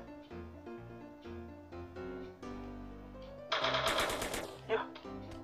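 Gunfire erupts in a GTA video game, a burst of rapid shots over background game music with its repeating melodic notes, loud and close, ending with a short sharp report.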